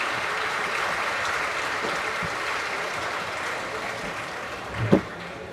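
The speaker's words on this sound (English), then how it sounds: "We'll give them a round of applause." An auditorium audience gives a round of applause at a conference session, steady dense clapping throughout at moderate level, with a brief louder thump near the end.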